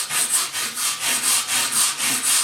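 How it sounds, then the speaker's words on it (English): A hand-held manual brush scrubs dirt and splinters off rough pallet wood in steady back-and-forth strokes, about ten rhythmic rasping passes, close and loud with no talking. "I'm just going to use a manual brush"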